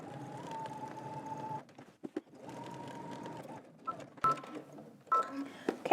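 A home sewing machine stitches a fabric overlay down along an existing seam on a Simplicity S9893 garment, running in three steady whirring bursts separated by short pauses and soft handling clicks, close and fairly loud with no talk.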